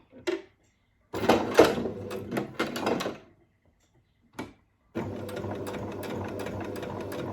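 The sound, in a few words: sewing machine back-stitching a dog bandana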